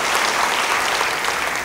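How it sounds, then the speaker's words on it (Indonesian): A church congregation at a Sunday service applauds together, a dense and even burst of many clapping hands that stays loud and steady from start to finish, with no talking over it. "Yang percaya beri tepuk tangan bagi dia."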